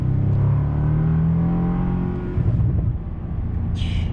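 A 2025 Bentley GT engine revs with a rising then falling drone, then drops as the gearbox downshifts from third to second, heard from inside the car at close range, with no talk.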